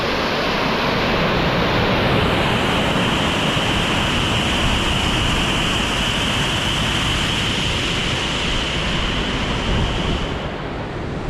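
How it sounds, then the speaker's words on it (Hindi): Priya Canal waterfall in Munnar, Kerala, roars as a loud, steady broadband rush of falling water that continues unbroken throughout, with no voices. "ये देखो भाई प्रिया कनाल वाटरफॉल है"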